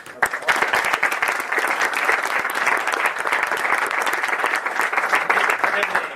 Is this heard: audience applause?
yes